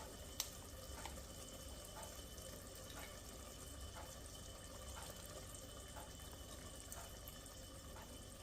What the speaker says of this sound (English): To this I'm going to add 2 tablespoons of milk.